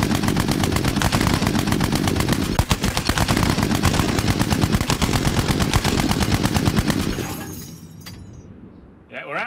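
Twin Browning machine guns in a Lancaster bomber turret fire a long, loud, continuous rapid burst of shots for about seven seconds, then stop abruptly into quieter mechanical noise and rattling.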